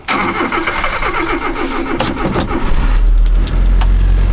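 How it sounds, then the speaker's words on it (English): A small engine just fitted with a one-piece contact breaker points set cranks and restarts, still cold, catching and settling into a loud steady run that swells louder near the end. "Make sure it restarts alright."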